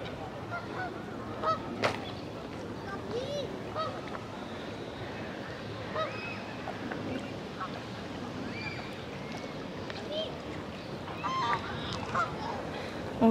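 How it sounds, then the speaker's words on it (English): Geese honk at the water's edge in Hyde Park, London, among swans and seagulls, giving scattered moderate calls over a steady outdoor wash of ambience with faint voices in the background. "All the swans and geese and seagulls."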